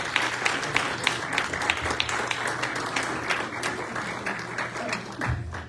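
Audience applause at a campaign event for Carli McNeill in Kenosha County, steady dense clapping from a crowd that holds for several seconds before tapering slightly.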